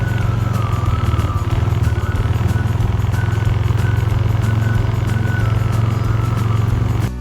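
Snow bike engine ridden slowly through snow at Gulmarg, Kashmir, a steady loud motor drone with a low rumble that runs close and continuous for several seconds, then cuts off at the end.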